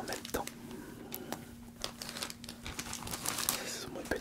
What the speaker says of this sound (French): on va ouvrir ces 4 boosters en même temps